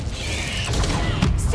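An Incendio fire spell cast in Hogwarts Legacy, a short whooshing magical burst with crackling, mechanical-sounding combat noise, brief and close.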